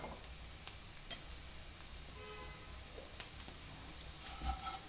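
Flat beans and flaxseeds fry in a pan with chili powder, making a faint, steady sizzle broken by occasional light scrapes and clicks of stirring.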